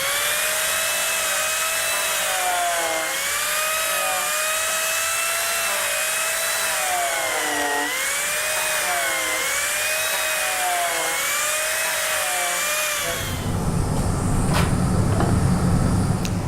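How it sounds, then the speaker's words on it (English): A turbo plane shapes a wooden piece with a continuous high-pitched whine that wavers in repeated strokes, then gives way to a rougher, noisier grinding near the end. "now I'll go and plane it with the turbo plane"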